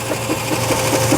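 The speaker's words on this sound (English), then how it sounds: "The belt is driving the circular saw here." A steam traction engine's belt drives a circular saw, making a loud, steady mechanical whir with a quick regular rhythmic beat, heard up close and continuous across the short span with no voices.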